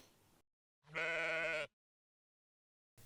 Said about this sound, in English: These sheep were gorgeous